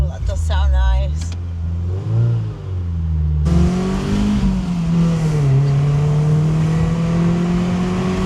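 An MG F sports car engine blips its throttle in quick revs, then roars loudly and steadily as the car drives through an echoing tunnel, heard from inside with the soft top closed.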